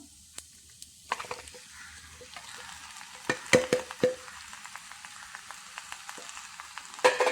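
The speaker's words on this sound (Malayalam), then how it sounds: "ഉപ്പിട്ട് പുരട്ടി വച്ചിരിക്കുന്ന ഇറച്ചി ഇതിലേക്ക് ഇട്ട് കൊടുക്കാം" Salted black chicken meat, about one and a half kilos, drops into a hot pan and bursts into loud sizzling frying, with sharp crackles and clatter between quieter stretches of steady hiss.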